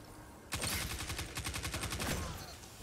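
Rapid video-game gunfire rings out as a sustained burst of evenly spaced shots, loud and close, lasting about two seconds after a quiet start.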